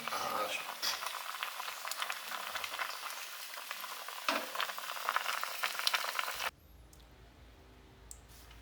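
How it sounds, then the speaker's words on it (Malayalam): Small vatta fish curry bubbles in a clay pot with a dense, steady hiss and crackle that stops abruptly near the end, leaving a quiet room. "തിളച്ച് വരുന്നുണ്ട്."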